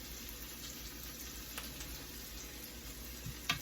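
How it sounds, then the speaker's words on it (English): Food frying in oil in a pan for an omelette and breakfast potatoes, a steady soft sizzle with a faint high hiss and an occasional small crackle near the end, no talking. "So we let that fry for about a minute or so"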